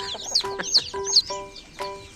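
A chicken clucks several times up close, short throaty clucks mixed with higher squawky notes in a loose, uneven rhythm.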